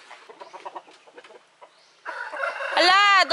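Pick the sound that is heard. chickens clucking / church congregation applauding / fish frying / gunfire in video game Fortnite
chickens clucking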